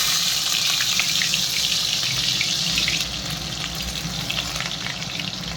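Chopped garlic frying with cumin seeds in hot oil, a loud, dense, continuous sizzle up close that eases slightly partway through, with no voices.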